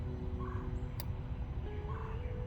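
Turkeys gobble outdoors in a few short bursts over a steady background rumble, fairly distant and moderately quiet.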